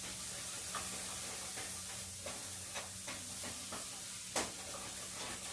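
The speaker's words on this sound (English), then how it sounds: "And as you stir, make sure you scrape the bottom of your pot so that you're pulling up all those spices." Tomato paste and spices are stirred and scraped in a cooking pot for dhal, with a soft sizzle underneath and scattered faint knocks of the spoon against the pot.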